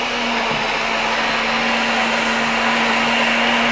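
A blender whirs steadily, loud and close, as it blends raw energy soup with apples in a continuous high motor whine with no speech.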